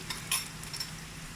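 A spoon scrapes and clinks a few times against a pot while stirring dried chili and ground spices for biryani, short brisk strokes over a faint sizzle.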